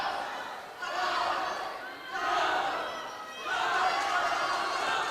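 Spectators at a high-school swim meet cheer and shout in waves that rise and fall, a loud, reverberant crowd roar with voices throughout.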